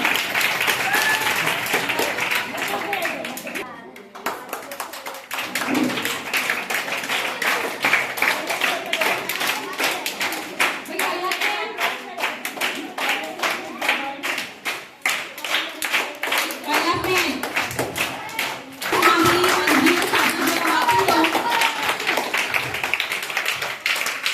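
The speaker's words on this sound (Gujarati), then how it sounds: "બેઠાથી તાળીઓ પાડો." Seated students at a freedom-fighter quiz applaud in dense rounds of many hands, with brief pauses, short lulls and a fresh burst near the end, close by and sustained, while occasional voices break in.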